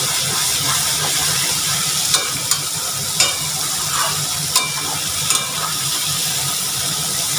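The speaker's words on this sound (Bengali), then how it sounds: "মশলাটা ভাজা ভাজা হচ্ছে।" Loud, close sizzling and hissing as spice paste fries in a pan for a katla fish curry with vegetables, with a few sharp clicks and scrapes from the stirring spoon.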